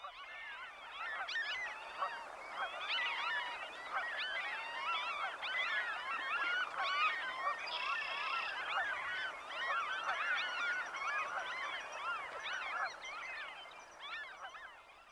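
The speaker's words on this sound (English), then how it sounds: "where the Franklin's gulls wail" Franklin's gulls calling over prairie beside Lonesome Lake, a dense, continuous chorus of many overlapping wailing and honking cries, steady and moderately loud throughout with no talk.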